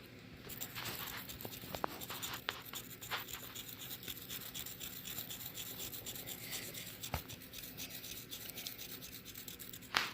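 A coin-cleaning pencil scrubs an Indian Head penny with a steady, close, faint rasping rub, continuous light abrasive strokes punctuated by a few small clicks and taps, and no talking.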